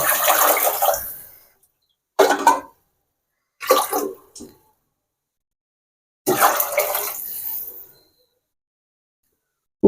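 Water is poured from a small vessel into a cooking pot for basmati rice in several separate splashing pours with silent pauses between them, close by and with no talk.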